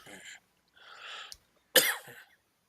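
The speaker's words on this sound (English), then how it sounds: "I just gave myself a headache from that coughing anyway" Several separated bursts of coughing, with a harsher, louder cough near the end, close to the listener and with no one talking.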